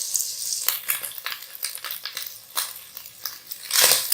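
Small chicken pieces fry in a pan until light golden, crackling and spitting up close, with uneven bursts of sizzle and stirring scrapes throughout.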